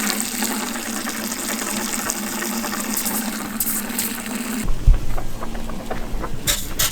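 Water from hoses spraying and washing a scuffed roof, a steady close hiss and splash that shifts abruptly near the end into lower gushing and dripping sounds, with no talk.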